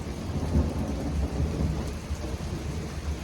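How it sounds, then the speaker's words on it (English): Thunder rumbles low and loud from a nearby lightning strike during a severe thunderstorm, mixed with steady heavy rain pattering on surfaces throughout. "Boom! Lightning strike, guys."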